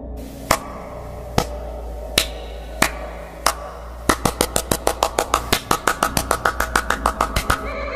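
Handclaps in a forest ghost-story setting: a few single sharp claps spaced about a second apart, then a rapid run of many evenly spaced claps, crisp and close with no talking.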